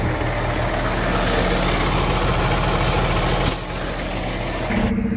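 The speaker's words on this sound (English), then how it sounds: "he starts up my truck" A car hauler truck's engine idles close by with a loud, steady, constant hum and rumble, dipping slightly partway through and continuing unchanged to the end.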